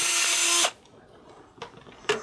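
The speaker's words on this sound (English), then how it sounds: "I can just take a standard, you know, a rechargeable electric drill." A rechargeable cordless electric drill whines loudly for about half a second as it bores a hole with a 3/32 inch bit, then stops. Two short, sharp clicks or taps follow in the quiet that comes after.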